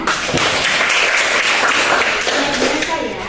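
Students in a classroom clap for their classmates, a loud, dense burst of applause with voices mixed in, continuous throughout the short stretch.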